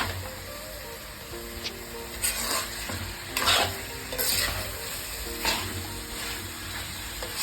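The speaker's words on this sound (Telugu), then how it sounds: "కారం వేసిన తర్వాత మంచిగా ఫ్రై చేయాలండి." Chicken curry fries with chili powder in a pan, a steady sizzle under repeated stirring strokes that rise into louder scraping swishes every second or so.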